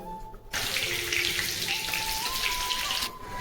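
Panch phoron and a bay leaf tempering in hot oil in a vegetarian dish: a steady, close, bright hiss of spitting oil starts abruptly and holds for a few seconds before cutting off, with no voices.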